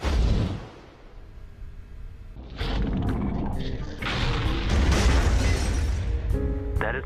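Explosion after firing on an enemy in a game, heard as muffled booms and crashing bursts over a rumbling battle bed, with a voice briefly heard.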